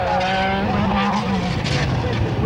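A race car climbs the hill at the 1994 Australian Hillclimb Championships at Collingrove, its engine revving loud and close with rising pitch as it shifts through gears, a commentator talking over it.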